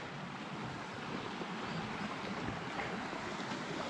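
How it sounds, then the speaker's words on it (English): Small creek on the Appalachian Trail flowing steadily, a broad continuous wash of running water close by, with no talking over it. "Beautiful little creek, river."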